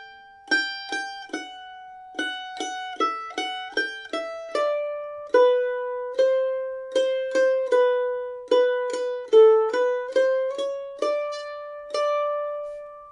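A mandolin plays a brisk fiddle-tune melody alone, with clear picked notes, some quick repeated, ringing up close with no talking.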